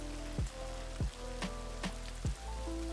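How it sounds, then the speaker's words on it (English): Rain falls in the video game Ghost of Tsushima, a soft, constant hiss with a few recurring low, swooping thumps over it. "So what I need to do to essentially turn the rain off is switch to a different weather"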